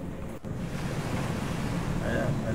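Rough open sea heaving around a ship, a steady broadband wash of waves and wind rushing past the microphone, loud and continuous for the whole moment with no talk.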